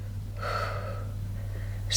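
A single audible exhale rises out of a faint steady hum during an off-the-pole handspring conditioning exercise for pole dance training, with a brief sharper breath at the very end.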